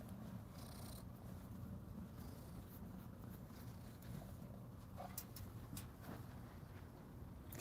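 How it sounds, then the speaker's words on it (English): A female cat purring close by: a steady, low, continuous rumble that runs unbroken from start to finish, with a few faint clicks and small movement sounds on top and no talking. "Can you guys hear all that purring from her too?"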